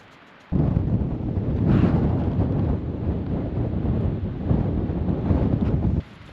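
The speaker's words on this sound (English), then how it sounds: "I got woken up with the wind blowing a tent round" Strong wind buffets a tent pitched for a wild camp high in the Glyderau mountains of North Wales at night, a loud, continuous roar with gusty swells that starts abruptly and cuts off after about six seconds.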